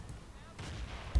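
A gunshot in the multiplayer shooter Battlefield 2, from an M4A1 carbine, heard as a brief low boom in a short stretch of muffled game noise, ending with a sharp thump.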